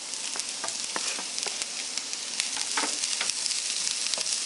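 Onions and carrots sizzle and crackle steadily in a hot pan, with dense spitting pops and an occasional stir, close and fairly loud.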